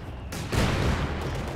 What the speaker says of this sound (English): they're mortaring the hell out of us